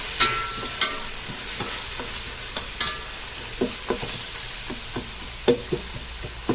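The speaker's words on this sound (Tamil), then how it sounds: "பிரியாணிக்கு வெங்காயம் நல்லா வதங்கணும்." Onions frying in a pan for mutton biryani: a constant loud sizzle with regular spatula knocks and stirring scrapes roughly every half second, close up and without speech.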